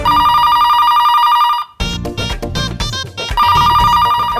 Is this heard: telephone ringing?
yes